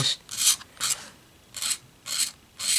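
Fine 1000-grit sandpaper is rubbed over an acoustic guitar pickguard in five short, close, raspy strokes separated by brief pauses, with no talking.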